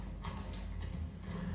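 Horse hooves from a Game of Thrones TV scene, a low busy clatter of clip-clop steps running steadily through the moment with a faint dog-like whimper, no talk over it.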